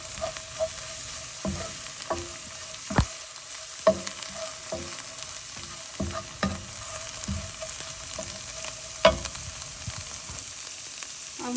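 Spinach leaves stir-fried in a pan give a faint, steady sizzle broken by frequent sharp spatula scrapes and clacks against the pan at an uneven rhythm.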